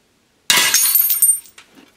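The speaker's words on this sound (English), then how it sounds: "let's put this somewhere where the flying glass won't go too far and smash it open" A high-voltage glass tube is smashed open after a short silence, giving one sharp shattering crash. Bright tinkling fragments follow and fade over about a second, with a faint clink at the end.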